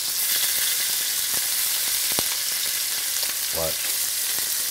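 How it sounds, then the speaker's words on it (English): Meatballs fry with a steady, loud sizzle in a pan while being quickly rolled over, and a few soft knocks and scrapes sound through the continuous crackle. "They're already cooked on one side, but I roll them quickly."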